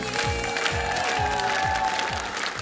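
A theatre audience claps steadily at a Ukrainian comedy show, dense, continuous applause filling the room, with a few voices mixed in beneath the clapping.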